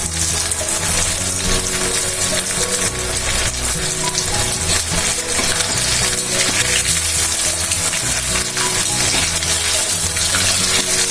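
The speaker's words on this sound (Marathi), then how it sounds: "आता हे मी छान तेल तापलंय त्यात तळणार आहे" Breaded potato balls for tandoori aloo fry in hot oil with a steady, loud crackling sizzle throughout, unbroken and close.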